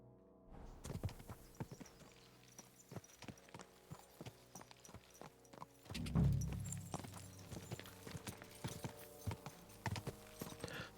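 Horse hooves clip-clopping at a riding pace in Kingdom Come: Deliverance II, a steady close rhythm of thuds with a louder heavy thump midway and no voices.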